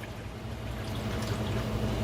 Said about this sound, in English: And then I'm going to follow that up with RODI water.